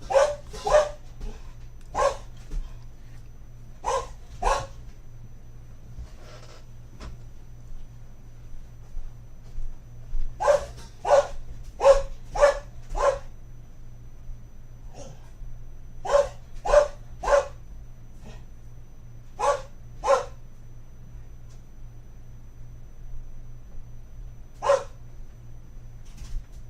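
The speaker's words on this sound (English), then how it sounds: "Sorry about the dog." A dog barks repeatedly in short bursts and clusters, fairly close by, over a steady low hum indoors during a severe weather update broadcast, with pauses between volleys.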